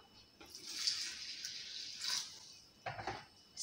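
Water poured from a container into a big basin for chapati dough in a home kitchen, a short trickling splash in two bursts, close and fairly quiet.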